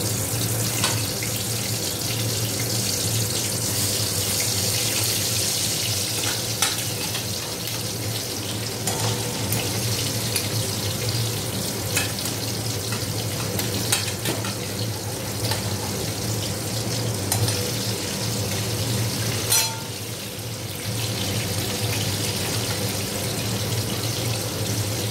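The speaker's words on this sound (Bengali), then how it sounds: "এবার আমি কাঁকড়াগুলোকে ছাড়বো তেলের মধ্যে" Crabs frying in hot oil in a kitchen, a steady, loud, even sizzle that runs without pause, with occasional faint clinks over the hiss and no talking.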